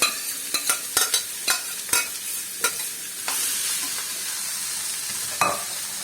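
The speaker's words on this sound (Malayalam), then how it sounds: "കുറച്ച് തേങ്ങ ചെറിയതും കൂടെ ചേർത്തിട്ട് ഇളക്കി യോജിപ്പിക്കുക." Cooked broad beans and dal being mixed in a pan, a run of quick clinking spoon strokes against the pan, then a steady sizzle with a final scrape, close and clear.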